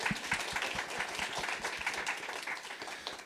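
Audience applause at the 2026 Newcastle Writers Festival, a live event: dense, steady clapping from a crowd that fills the room for about three seconds, then tapers slightly at the end.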